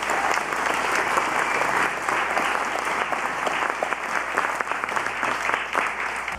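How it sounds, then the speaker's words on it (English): Sustained applause from a large crowd at a conference closing plenary, dense and steady clapping filling the room throughout without pause. "another round of applause"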